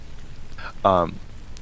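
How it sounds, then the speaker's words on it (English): Rain showers hiss as a steady ambient background with a constant soft patter throughout. A short burst of voice cuts in over the rain near the middle. "Throughout your morning, Kane, the morning chill that would be accompanying these sort of harsher, biting rain showers are alleviated"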